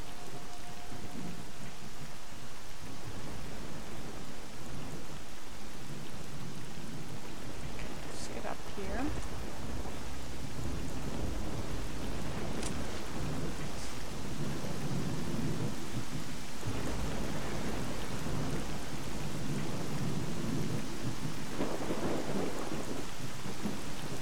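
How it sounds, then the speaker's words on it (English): Heavy rain with rolling thunder in a Chernobyl-area Pripyat setting of a video game, a dense steady downpour throughout with deep rumbles and a few sharp cracks, faint talk underneath. "Rain is quite heavy."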